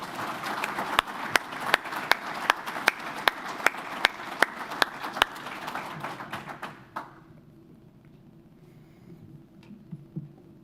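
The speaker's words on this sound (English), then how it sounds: "So please give them another round of applause." An audience at an electric cooperative's annual meeting applauds, a dense roomful of clapping with a few sharp, evenly spaced louder claps standing out, then stopping abruptly around seven seconds and leaving quiet room noise.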